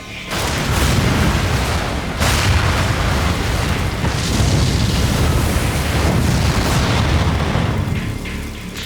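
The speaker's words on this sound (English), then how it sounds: "An explosion ripped through the living quarters and blew the walls down." A loud, sustained roaring blast rumbles on for several seconds, deep and continuous, like a massive explosion with debris and thundering aftermath, an explosion on the Deepwater Horizon drilling rig blowing down living-quarters walls.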